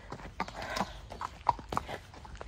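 A horse walks at a slow pace, its hooves clip-clopping in a steady, uneven rhythm at close range, with a few sharper hoof strikes standing out over a low background.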